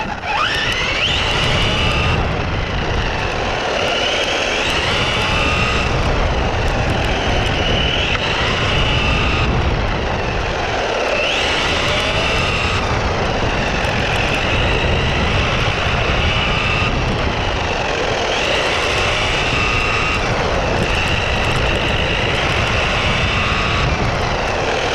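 A ZD Racing Pirates 2 brushless RC buggy on stock top speed runs, with a loud, continuous high-pitched electric motor whine that rises and falls as it passes, heard alone with no talking.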